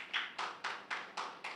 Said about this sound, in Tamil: அதுக்கு ஒரு கரகோஷம் கொடுத்தீங்கன்னா சூப்பராக இருக்கும்.